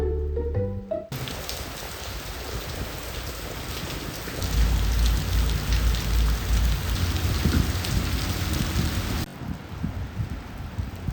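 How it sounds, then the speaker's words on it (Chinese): Heavy rain in Sydney pours down in a dense, continuous patter of drops striking the ground, loud and close, with a low rumble underneath. "钢珠一样的雨滴敲在地上"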